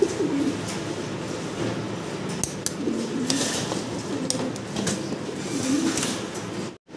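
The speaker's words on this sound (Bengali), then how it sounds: "ভিডিও স্ক্রিনে আপনারা দেখতে পারতেছেন একদম বিশাল সাইজের একজোড়া শৌখিন কবুতর আছে এখানে" Large fancy pigeons in a pigeon farm coo in low, rolling bursts that repeat several times, close by over steady background noise with a few light clicks.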